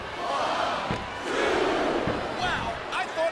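Crowd noise in the WWE 2K25 wrestling video game, a roaring arena crowd surging and cheering in waves, fairly faint and mixed with game sounds.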